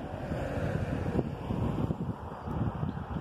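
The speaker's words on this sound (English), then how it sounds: "It's a windy day." Wind buffets the microphone in a constant low roar with gusty rumbles, filling the whole stretch outdoors in a countryside park.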